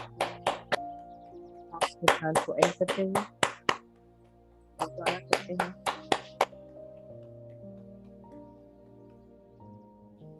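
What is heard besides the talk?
group clapping hands to end meditation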